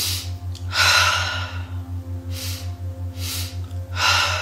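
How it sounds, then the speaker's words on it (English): Slow, deep inhales and exhales during a guided breathing exercise, several long breath swells rising and fading over a steady low rhythmic pulse. "And keep breathing."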